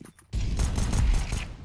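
Gunfire in Counter-Strike on the Inferno map: a sudden loud burst of shots that opens abruptly and holds dense and sustained for over a second, up close.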